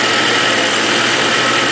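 A car engine runs at a steady idle on a vehicle fitted with an HHO generator, heard as a loud, close, unbroken mechanical roar with no voices.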